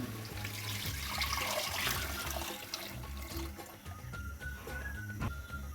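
Strained tomato water pours and splashes steadily into a pan for homemade tomato sauce for a few seconds, close by, with a low background hum.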